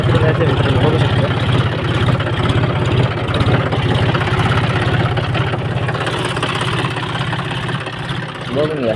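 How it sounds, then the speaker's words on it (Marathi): A 50 HP tractor with a plough attached runs at a steady, close, loud idle, its low engine throb continuous throughout with little variation. "हे ट्रॅक्टर चालू आहे आपला"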